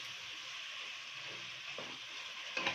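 Curry leaves fry in hot oil for a curry leaf chicken fry, giving a steady close sizzle and crackle throughout with a few soft stirring scrapes and a brief louder pop at the end.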